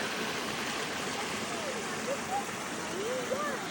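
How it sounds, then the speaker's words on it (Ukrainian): A small mountain stream near Synevyr in the Carpathians rushes steadily as broadband water noise, close and continuous, with faint voices and a few brief chirps over it. "Струмочок, так?"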